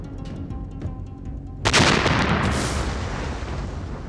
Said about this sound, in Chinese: 这是最后一次爆炸，现在可以过去了。